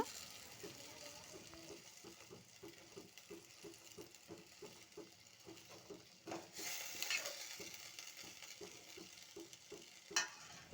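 Tomato and potato fry on a medium flame with a low sizzle under rapid rhythmic stirring taps, then a brief louder burst of hissing and a sharp clink of metal near the end; fairly quiet overall.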